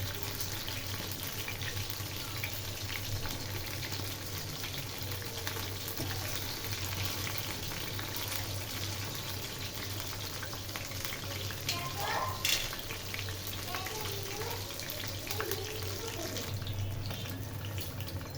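Fish frying in hot oil, a steady close hiss and sizzle throughout with faint crackles and a few utensil clinks, no speech over it.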